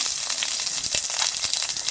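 Butter sizzling in a hot oiled pan while making mushroom butter masala, a steady close hiss with faint crackles running throughout, no voices.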